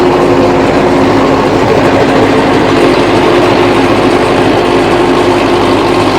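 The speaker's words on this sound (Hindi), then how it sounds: "बिल्कुल मजे में ट्रैक्टर चला रहा है इसको" A tractor engine pulling a multicrop super seeder through wet field soil, a loud steady droning rumble that continues throughout with no voices.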